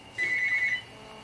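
A telephone rings once with a steady electronic tone lasting about half a second, fairly clear over a quiet room with no talking.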